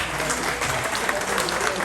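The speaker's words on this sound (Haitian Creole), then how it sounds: "on a demandé un applaudissement explosif pour Géant ça" A large indoor audience at a live memorial tribute concert applauds loudly and steadily, a dense, unbroken wash of clapping that fills the whole stretch.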